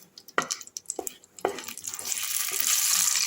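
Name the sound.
dry red chilli and bay leaf sizzling in hot oil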